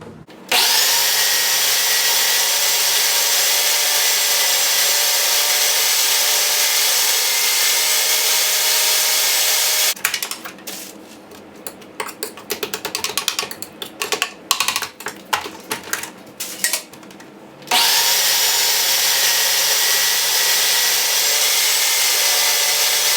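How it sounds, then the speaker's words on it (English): Food processor whirring loudly and steadily while blending a pumpkin spice fat bomb mixture, with a stretch of rattling, choppy grinding in the middle before the smooth motor drone returns; no talking. "you've just thrown everything into a food processor or blender"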